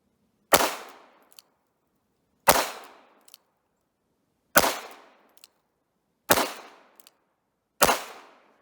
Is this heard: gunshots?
yes